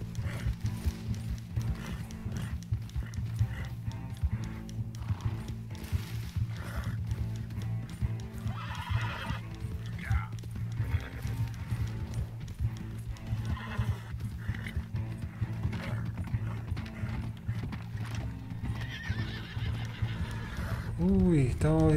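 A horse in Red Dead Redemption 2 neighs and whinnies over steady galloping hoofbeats, loud and close, with a dense game soundscape and what may be voices underneath throughout.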